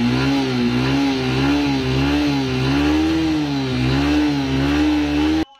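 A motorcycle engine runs close by at a steady, throbbing idle with gentle rises in revs. It keeps up an even pulsing beat for several seconds before cutting off abruptly.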